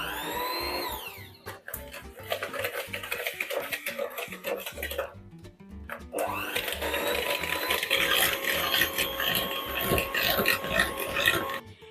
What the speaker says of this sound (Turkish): 8 adet yumurtamızın sarısı burada. 340 gram toz şekerli güzelce köpük köpük olana kadar çırpıyorum.